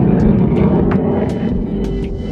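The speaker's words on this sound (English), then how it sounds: "There's a rocket going off. Not a rocket, a jet." A jet aircraft passing overhead outdoors, a steady low roaring rumble filling the background with a few faint higher chirps scattered across it.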